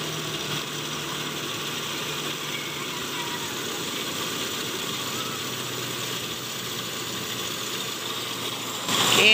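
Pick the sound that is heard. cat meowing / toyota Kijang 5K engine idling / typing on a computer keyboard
toyota Kijang 5K engine idling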